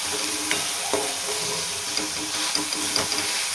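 Tomato cooks in oil in a pan for a cowpea curry, an even sizzle with periodic scrapes and taps of a spoon as it is stirred and pressed, close up and without talk.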